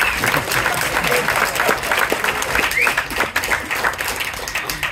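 An audience applauds at a Tamil film trailer launch, steady crowd clapping filling the hall throughout, with voices and chatter underneath.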